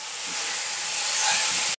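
Boneless chicken and masala mixture sizzling in a hot pan, a bright, steady hiss that swells slightly before cutting off abruptly.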